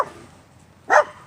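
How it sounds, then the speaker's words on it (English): A dog gives a single short, fairly loud bark after a moment of near-quiet, with no talking around it. "the dog won't stop barking at everything they see"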